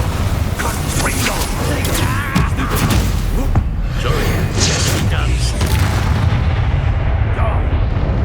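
Spells explode in rapid succession during a wizard duel in a fantasy game. Loud, dense booms and crackling blasts run continuously, with shouting mixed into the barrage.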